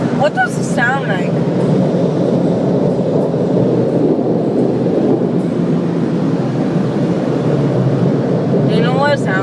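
Car wash blowers drying a car roar as a loud, steady broadband rush of air from start to finish, with brief whistling tones at the beginning and end.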